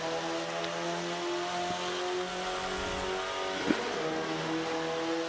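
Turbocharged Mercedes 190E engine in the racing game Forza 5, a steady sustained in-car engine drone with harmonic tones, held at a constant pitch throughout with a brief click near the end, no talk.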